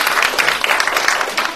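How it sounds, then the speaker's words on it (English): Audience applause after a dance performance at a cultural event in Odisha, a dense, loud wash of many hands clapping, continuous throughout the short moment. "Maybe we can give another one applause."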